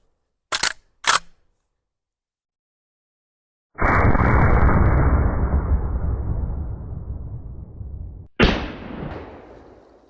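An 1887 lever-action rifle chambered in 70-150 WCF fires a 900-grain bullet into pine logs outdoors. Two sharp clicks come first, then a loud boom with a long rolling echo, and a second boom follows near the end.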